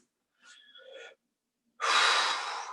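A deep breath taken during a straight leg hinge stretch: a short soft inhale, a pause, then a loud, long, airy exhale close to the mic, with no talking.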